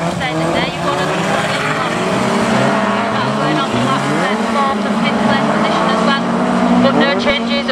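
Race cars roar past on a racing circuit, a loud, continuous engine drone with shifting pitch, accompanied by the commentator's steady talk over the top.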